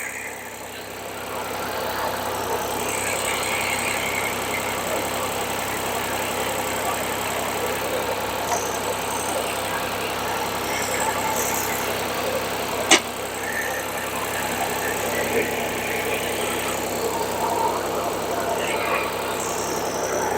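A Shibaura SL1643 Japanese tractor engine idles with a steady, even mid-pitched rumble for the whole stretch, broken once by a short sharp click partway through.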